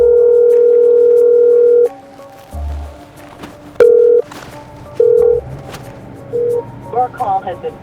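On an outgoing phone call, a steady ringback tone holds for about two seconds, followed by several shorter tone pulses and clicks, with some movement noise near the end.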